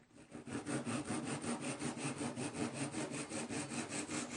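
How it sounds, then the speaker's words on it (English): A hand saw cuts small pieces of wood for a guitar string winder in quick, even back-and-forth strokes, close and steady, with no talking. "I'm just going to cut these two pieces off"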